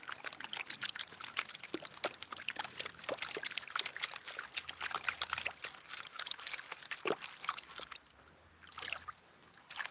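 A heavy gold pan is shaken hard in water while panning for gold, giving a steady wash of sloshing and splashing water with rhythmic surges that ease off near the end.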